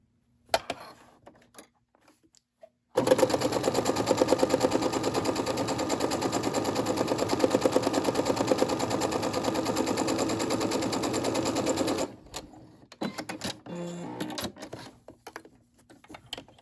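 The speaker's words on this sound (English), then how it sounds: "All right, let's go to the sewing machine." A Brother SE600 sewing machine runs in one long rapid burst of straight stitching on fabric, a fast mechanical rattle lasting several seconds, followed by a few short clicks and handling noises.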